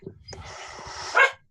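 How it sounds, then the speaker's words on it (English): A dog gives a single short bark close by during a tabletop game session, preceded by faint breathing or whimpering, with no talk over it. "That's the dog."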